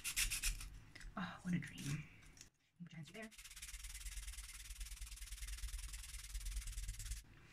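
A 3D printed item rubbed back and forth over a sheet of sandpaper laid flat, giving a steady, close, gritty scraping that runs for several seconds after a brief spoken exclamation and a short pause.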